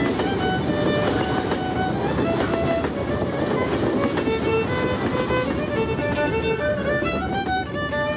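Steady loud rumble of a departing night Travelling Post Office mail train in motion, with a dense wash of noise and faint tonal whine, continuous and unchanging throughout.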